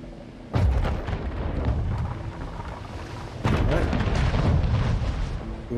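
Ship cannon fire in Anno 1800, two heavy booming volleys a few seconds apart, each bursting loud with a rolling low rumble that lingers, under game ambience.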